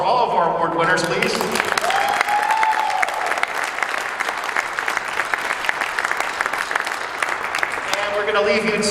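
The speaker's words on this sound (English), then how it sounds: "One more round of applause for all of our award winners," Audience applause for award winners at a spring band concert, a dense sustained wash of clapping hands filling most of the stretch, with speech over the applause at the start and end.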